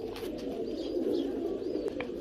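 A pigeon cooing steadily and close by, a low continuous rolling coo, with faint higher bird chirps and noises in the background.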